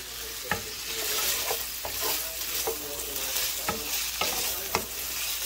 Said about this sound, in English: Just gonna put some olive oil in there and let it get a little heated.